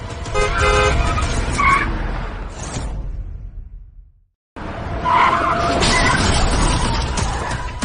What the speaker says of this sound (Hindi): तुम्हारी हिम्मत कैसे हुई मेरी गाड़ी को टक्कर मारने की?